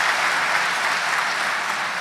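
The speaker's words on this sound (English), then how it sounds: "let's give one more round of applause for the boys and girls from Cardinal Spellman." An audience at a Chamber of Commerce annual meeting gives a round of applause for schoolchildren. It is a loud, dense, continuous clapping from a large crowd, with no voices over it.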